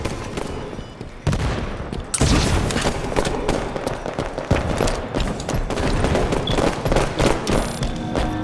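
Dense, continuous gunfire from a competitive Halo 5 team match, loud volleys and rapid bursts running throughout with booming impacts, with no voices.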